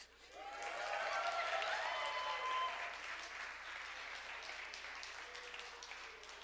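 Women in a church congregation applaud together, a soft swelling patter of many hands that peaks early and then tapers into lighter scattered clapping, heard from a distance.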